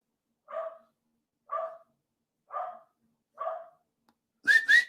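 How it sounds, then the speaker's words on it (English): A dog barks four times at an even, unhurried pace, each bark fairly close and moderately loud, followed by two quick high whistle-like yelps at the end. "There's the dog."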